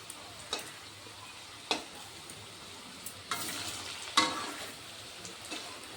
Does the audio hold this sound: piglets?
no